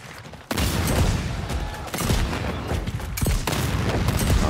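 Gunfire in the action video game Second Extinction, dense bursts of rapid shots and booming blasts, loud and sustained after a brief quieter opening, with no speech over it.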